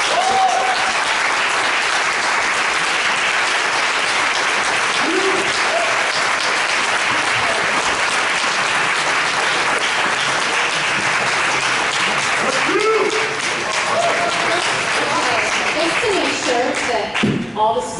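A convention debate audience applauds in a dense, sustained wash of clapping that fills the hall throughout, with a few louder thuds and stray voices surfacing near the end.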